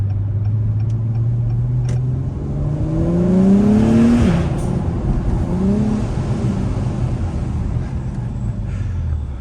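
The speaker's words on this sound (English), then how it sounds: "I love that whining sound of that turbo." Turbocharged 2021 Acura Type S on a night drive, its steady engine drone joined by a rising turbo whine that climbs and falls through a gear change, close and unbroken.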